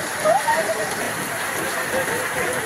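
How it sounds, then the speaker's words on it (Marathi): Heavy monsoon rain in Maharashtra hisses steadily as a dense, even wash of noise, with a voice speaking faintly over it. "पण बाई आज एवढा पाऊस आहे महाराष्ट्रात"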